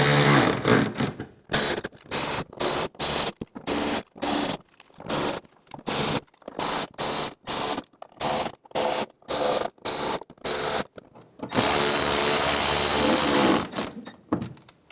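A power tool drives fender liner bolts on a Chevrolet Silverado pickup, in a string of short, loud buzzing bursts separated by brief pauses, then one longer continuous run near the end, with no talking.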